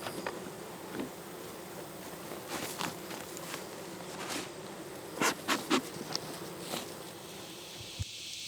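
Honeybees hum softly inside a beehive troubled by hive beetles and ants, a steady faint drone broken by scattered close clicks and taps.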